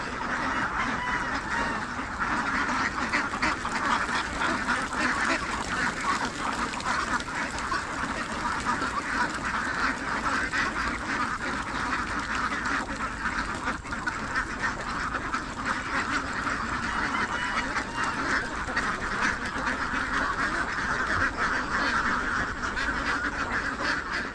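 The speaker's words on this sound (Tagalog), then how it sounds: "Ang dami. Itik." A large flock of ducks quacks nonstop on a property in Nueva Ecija, a dense, loud chorus of overlapping calls with no gaps.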